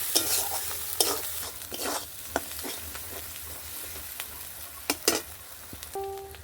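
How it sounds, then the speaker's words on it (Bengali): Spiced masala with salt being sautéed in a pan for ghugni, a low steady sizzle broken by sharp scraping and clanking strokes of a spoon stirring, close up and without speech. "লবণ সবগুলো দিয়ে ভালো করে কষিয়ে নিচ্ছি"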